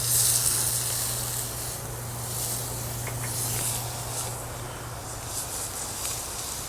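Sausages and local quail sizzle in a grandma's cast iron skillet over a campfire, a steady hiss and crackle with a low hum underneath, fairly close and alone.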